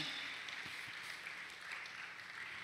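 A church congregation claps during a stewardship sermon, a steady, soft, distant patter of many hands continuing without a break.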